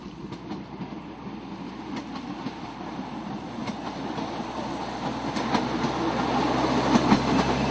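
An Edwardian rail car rumbles along a private railway track with a steady rhythmic clatter of wheels, the sound gradually growing louder as it approaches.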